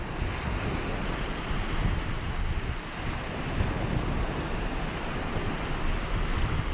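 Strong wind buffeting the microphone on the beach at Atwick near Hornsea, a dense continuous roar blended with surf, steady and loud throughout with no voices.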